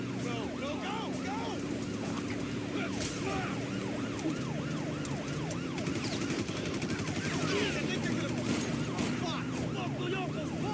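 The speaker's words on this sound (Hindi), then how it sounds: "और ये हम लोग के पीछे पुलिस की गाड़ी।" Wailing police sirens from a car chase in the video game GTA, rising and falling repeatedly over engine noise and bursts of gunfire, with a person talking over the game sounds.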